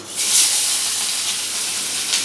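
Katla fish frying in a very hot wok makes a loud, steady steamy hiss and sizzle. A brighter burst comes at the start, and no one speaks.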